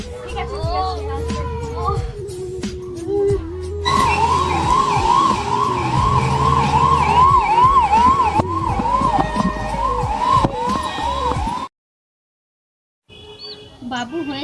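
An ambulance siren in a short film scene wails in a steady, repeating rise-and-fall for several seconds. Voices talk over it before the sound cuts off abruptly.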